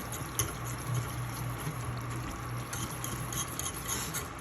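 A spoon steadily stirring a darkening roux in a pot, giving soft scraping and faint liquid swirling with a low background hum and no talk.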